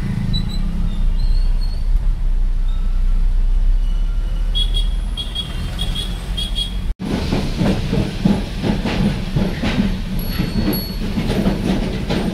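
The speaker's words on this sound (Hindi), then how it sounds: "ये है काठगोदाम का नियर बाय रेलवे स्टेशन" A train rumbles at Kathgodam railway station with a low, steady drone and hiss, then rhythmic wheel clatter and rattling as the cars pass close by, loud throughout.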